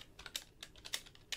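Fingers typing code on a computer keyboard, a quick run of close, crisp keystroke clicks in an uneven rhythm, with no speech.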